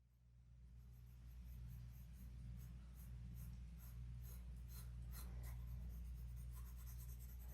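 A coloured pencil shades an apple on paper, giving a soft, steady scratching rub with quick repeated strokes, close and quiet above a low background hum.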